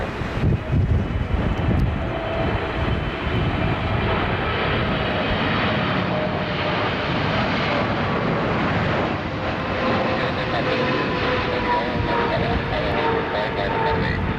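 Aircraft landing at Narita Airport runway 16R in strong crosswind, a steady loud engine roar mixed with gusting wind buffeting, continuous and close throughout.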